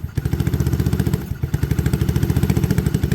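Freshly started engine idling with a steady, fast, lumpy clatter of regular firing pulses, close and fairly loud, briefly dipping once before settling back into the same even rhythm.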